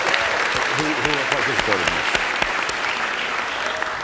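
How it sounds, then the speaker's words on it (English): Applause from the audience at a climate forum, a steady dense clapping that fills the room throughout, while a speaker's voice carries over it. "Big round of applause to all of you"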